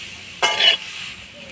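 Spices tempering in hot oil in a kadai for lau shak bhaja (bottle gourd greens), a brief loud hissing sizzle that flares up and quickly settles into a faint hiss.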